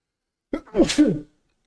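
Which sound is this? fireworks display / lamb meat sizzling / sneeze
sneeze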